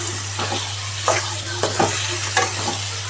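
Cashew chicken fries in a pan over low heat while being stirred, giving a steady sizzle with a low hum underneath and a few sharper scraping strokes spread through the three seconds.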